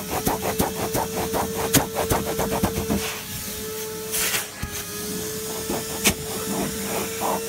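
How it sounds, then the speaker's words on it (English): Wet-dry vacuum cleaner sucking up damp dirt, a steady close motor drone with rhythmic rattling pulses as debris is drawn in, then a smoother whine with a few sharp clicks near the end. "So now you want to get your dirt and suck it up with the vacuum."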